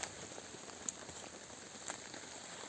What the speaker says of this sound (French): Et le fait qu'il pleuve, c'est pas désagréable.